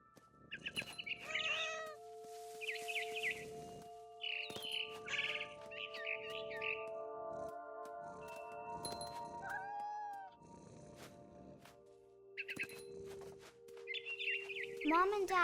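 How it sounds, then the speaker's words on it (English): A barn swallow chirps and twitters in short bursts in the video game What Remains of Edith Finch, with a cat's meows and chirrups mixed in over quiet, tonal background music. "It was a barn swallow going back to her nest."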